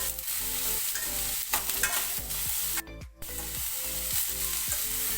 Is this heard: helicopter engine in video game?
no